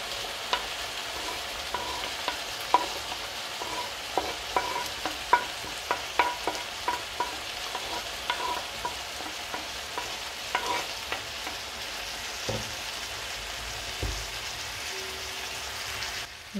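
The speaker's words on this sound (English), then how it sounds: "Let's add the green onions to the pan" Green onions and mushrooms sauté in a pan with a soft, steady sizzle, broken by repeated light scrapes and clicks of stirring through the whole stretch, fairly quiet and close.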